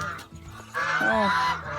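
Geese honk loudly in a farm yard near Muscovy ducks, a run of nasal calls rising over a general background of fowl noise, close and clear.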